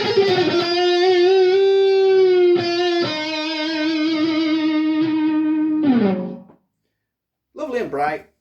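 Lead tone on an ESP LTD EX50 electric guitar: a long sustained note with wavering vibrato, a bend and a short trailing phrase, loud and close, ending after a brief gap.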